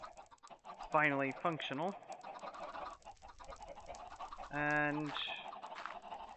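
Chickens at a chicken farm in the Minecraft modpack Hexxit let out two short, clear bursts of clucking, one early and one later, while someone talks quietly in between.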